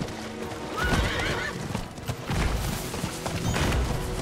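A horse in the video game Diablo 4 neighs and snorts amid steady hoof clip-clops and thuds, close and busy, with no talking.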